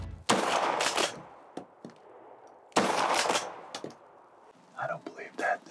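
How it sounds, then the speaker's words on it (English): Rifle shot while deer hunting in Michigan: two loud, sharp gun blasts about two and a half seconds apart, each with a rolling outdoor echo, followed by quiet whispering nearby. "Okay, I'm gonna take the shot."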